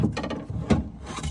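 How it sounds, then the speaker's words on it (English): Screw being driven back into a car door panel on a Dodge Magnum, giving a few quiet close ratcheting clicks and scraping turns with brief pauses, no talk. "Screws and screw it back in."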